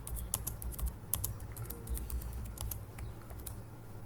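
Rapid, uneven keystrokes clatter on a computer keyboard as a file path is typed, a steady stream of close clicks with no voices.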